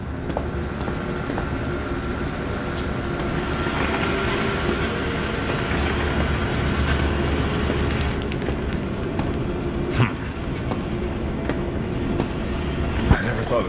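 Gadget trolley rolling along rails in the video game Zoochosis, a steady rumbling, rattling run with occasional clanks and clicks over a continuous background.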